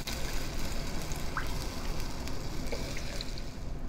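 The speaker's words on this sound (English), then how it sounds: "Now add the chopped squash and 6 cups of broth." Bone broth pours in a steady rushing stream into a pot of chopped buttercup squash, close and continuous for a few seconds with faint splashes.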